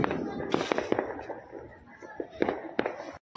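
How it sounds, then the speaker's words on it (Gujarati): Firecrackers bursting during Uttarayan celebrations, several sharp cracks at irregular intervals with some pops closer than others, while people talk quietly in the background. "આ જો ફટાકડા ફૂટે"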